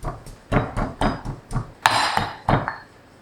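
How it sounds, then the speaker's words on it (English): A pestle pounds spices with a pinch of salt in a mortar for Thai red curry paste, striking in a steady series of about eight hard, close thuds with a brief clink partway through. "to make the spices get pounded very quickly and not too wet."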